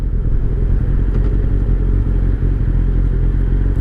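A 2003 Kawasaki ZR7S motorcycle engine idles steadily, a loud close continuous rumble with a fast even pulse and no pauses.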